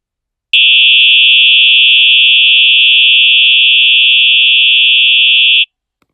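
Fire alarm blaring close and very loud, one continuous high-pitched electronic tone held for about five seconds, then stopping sharply.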